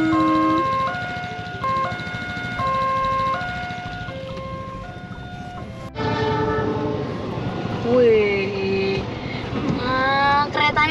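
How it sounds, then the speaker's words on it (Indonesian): An electric train passes close by, sounding a melodic multi-tone horn several times, followed by a louder rolling rumble and squealing wheel noise, with faint voices in the background. "Wah, Mah, ada kereta lewat."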